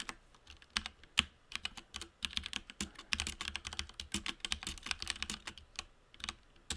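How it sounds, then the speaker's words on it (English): Rapid, irregular keyboard typing clatters up close, dense bursts of sharp key clicks with brief pauses between runs. "Sorry for the keyboard clack."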